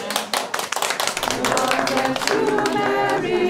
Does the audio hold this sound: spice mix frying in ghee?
no